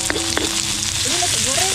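Nasi goreng fries in a pan with a steady, close sizzle. A voice speaks faintly over it.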